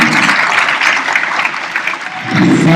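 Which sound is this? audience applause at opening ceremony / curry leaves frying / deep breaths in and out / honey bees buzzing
audience applause at opening ceremony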